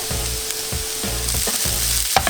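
Chili powder and roughly cut red chilies frying in a pan for a Sri Lankan spicy gravy, a loud close sizzle with rhythmic bursts as the contents are stirred, no talking.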